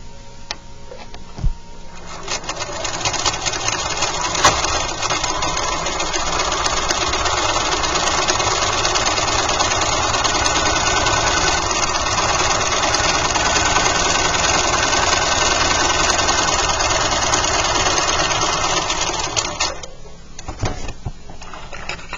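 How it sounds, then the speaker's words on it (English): A sewing machine stitching a 1/4 inch seam, a steady close mechanical whir running continuously for nearly twenty seconds with a soft rhythmic chatter, starting and stopping with brief clicks. "And then sew a 1/4 inch seam."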